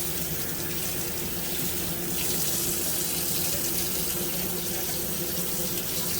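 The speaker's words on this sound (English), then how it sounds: "let me go ahead and put some water in that heavy whipping cream" Water running from a tap and poured into a container of heavy whipping cream, a steady close rushing splash that swells slightly midway and continues throughout.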